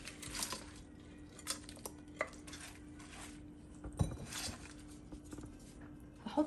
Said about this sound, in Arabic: جبت حله هنزل فيها كمية الجمبري اللي معايا كلها